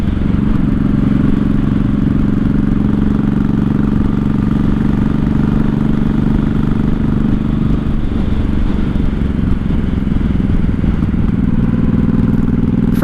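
A 1983 Honda Shadow VT750C motorcycle rumbles loud and close while riding, its engine drone steady, then dipping briefly as it brakes to short stops.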